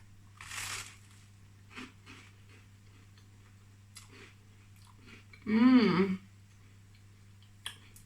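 Someone bites and chews toast spread with homemade vegan cashew butter. A few soft crunches come close up, with one louder burst of chewing midway, then quiet.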